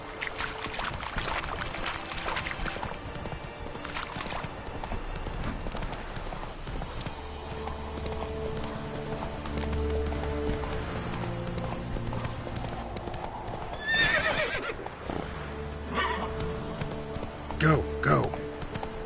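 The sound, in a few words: horse galloping in the video game Witcher 3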